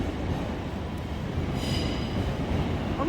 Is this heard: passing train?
yes